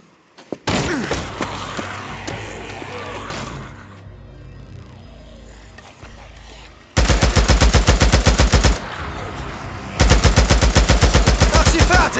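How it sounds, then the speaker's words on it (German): Machine gun fire in the video game Days Gone: an opening burst of shots over clattering impacts and explosions, a quieter lull, then two long rapid-fire bursts of dense, loud automatic fire. "Du darfst nur nicht aufhören zu schießen, okay?"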